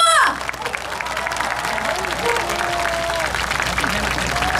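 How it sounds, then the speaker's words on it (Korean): A festival crowd applauds at an outdoor entertainment stage, dense clapping that runs steadily after a brief opening call, with scattered voices and cheers mixed in. "여러분 박수 소리 한번 듣고 갑시다"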